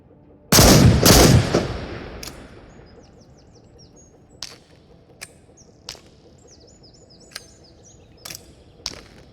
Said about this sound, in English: Here we have the sawed-off version of it. This is your classic sawed-off shotgun.